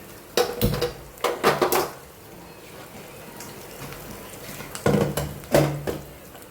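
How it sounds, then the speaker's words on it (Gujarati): Mint and dried fenugreek leaves with green chilli and cumin hit a hot pan, giving several short clattering bursts of stirring and sizzling scrapes with quieter gaps between them and no talk. "સહેજ પુદીનો અને કસૂરી મેથી. આટલું થોડું આપણે સોતે કરી દઈશું."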